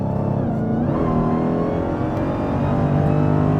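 A Dodge Demon 170 on Mickey Thompson drag radials accelerates hard from the driver's seat, its engine roaring loud and continuous, with the pitch climbing and a gear change near the one-second mark.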